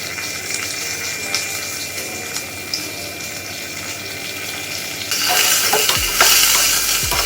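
Cumin, red chili and curry leaves hit hot tempering oil, giving a loud sudden sizzle partway through. Before it comes quieter kitchen noise with light clinks and a running-water hiss, and the sizzle then holds steady.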